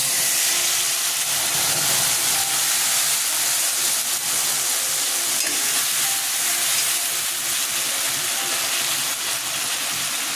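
Chili and garlic paste dropped into hot oil for pumpkin bharta, a loud, steady sizzle and hiss close up, lasting throughout with some stirring.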